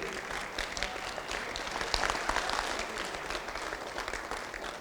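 A standing ovation for plant night-shift and day-shift workers at a distributors' event, dense continuous clapping from a large audience held at an even level for about five seconds.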